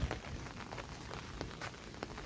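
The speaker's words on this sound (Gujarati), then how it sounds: "અને હજી વરસાદ ચાલુ જ છે" Steady rain pattering on a surface, with scattered distinct drops standing out over a constant wash of falling water.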